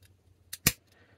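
Two quick, faint metallic clicks as the small scissors of a Victorinox Super Tinker Swiss Army knife snap open and shut, close by in a quiet room.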